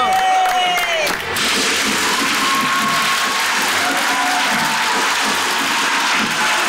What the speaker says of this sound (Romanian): Ne lungi noi aplauzele, cum am văzut la artiștii mari.